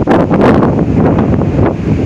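Strong gusting wind during a non-thunderstorm high wind event in Oklahoma, a loud continuous roar buffeting the microphone with surging gusts throughout, no voices.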